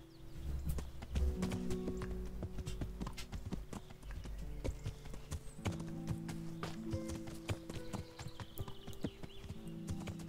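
Horse hooves clip-clop at a steady walking pace in Kingdom Come: Deliverance, moderately close, over sustained soft background music.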